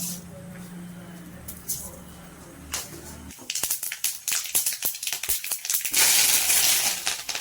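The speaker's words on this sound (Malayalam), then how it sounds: "കടുക് പൊടിക്കട്ടെ." Mustard seeds in a pan for a Kerala Onam dish start quiet, then break into dense, close, irregular crackling and popping that rises to a loud, hissing sizzle near the end.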